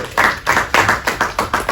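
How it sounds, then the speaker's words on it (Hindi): Rhythmic clapping from an audience at a Hindi poetry gathering, loud and close, about eight evenly spaced claps in quick succession like a welcome clap-along. "जोरदार तालियों के साथ आप स्वागत करें"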